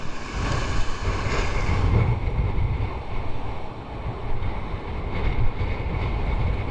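Broad surf of a big open sea, the steady wash of waves rolling in with wind buffeting the microphone, a continuous loud roar with no voices at a fishing spot.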